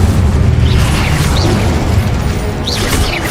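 A fire spell cast in the Hogwarts Legacy video game bursts out as a loud, dense whoosh with booming low rumble, carrying on steadily for a few seconds with brief bright flares on top.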